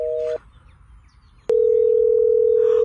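A telephone call's ringing tone: a brief two-pitch beep, a pause, then a long steady tone that holds clearly and loudly to the end.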